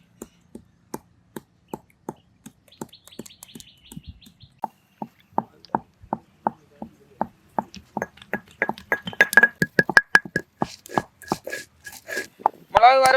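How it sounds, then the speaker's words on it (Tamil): Black pepper pounded in a village kitchen for a quail roast: a steady run of sharp, evenly spaced thuds, close and fairly loud, speeding up and crowding together toward the end, with birds chirping in the background. "மிளகு வறுவலுக்கு மிளகு இடிச்சாச்சு."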